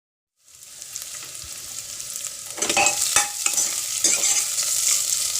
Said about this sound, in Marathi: आता फोडणी देऊया.